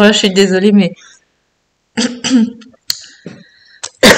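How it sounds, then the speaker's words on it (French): A woman still recovering from Covid coughs a few short, sharp times in close, loud bursts, separated by silence, between her own apologetic speech. "donc je tousse encore un petit peu"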